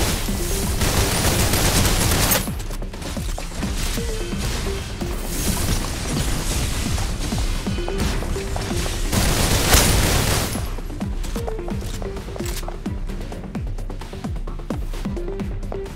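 Sustained automatic gunfire from the mobile shooter game Snowbreak roars loud and continuous, with rapid rattling bursts, a brief lull near two seconds and a sharper blast around ten seconds.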